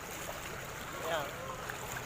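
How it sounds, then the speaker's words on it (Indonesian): Fast-flowing floodwater rushing steadily nearby during a 2020 flood in Putussibau, a continuous watery hiss with a faint brief swell. "Oh, tapi air masih kencang ini."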